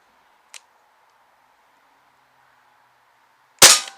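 An Umarex MP5K PDW CO2-powered BB gun fires a single sharp shot near the end, preceded by a faint click and a quiet hum.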